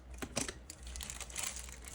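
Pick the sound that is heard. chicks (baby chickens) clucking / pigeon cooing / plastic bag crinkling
plastic bag crinkling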